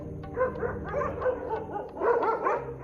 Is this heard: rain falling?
no